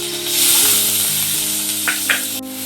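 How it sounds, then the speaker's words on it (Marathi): Capsicum and onion go into hot oil with cumin seeds in a pan and sizzle loudly and steadily up close, with a couple of brief stirring clicks near the end. "आता मी मिरची टाकून घेते बघा मिरची कांदा टाकते"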